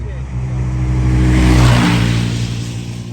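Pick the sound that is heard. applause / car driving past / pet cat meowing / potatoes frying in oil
car driving past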